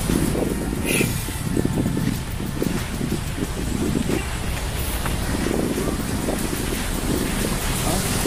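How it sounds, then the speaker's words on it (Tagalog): Strong wind roars and buffets continuously at the Ulango hanging bridge, with loud gusts rumbling over the whole stretch, mixed with the wash of open water. "Narinig nyo ba yung hampas ng hangin? Grabe. Sobrang lakas ng hangin."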